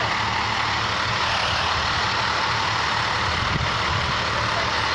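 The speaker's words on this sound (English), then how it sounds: "Look how big that truck is." Loud, continuous rumble and hiss of a large truck maneuvering nearby, the engine droning steadily for several seconds with a faint knock partway through.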